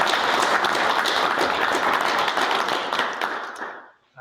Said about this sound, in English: I think that deserves a round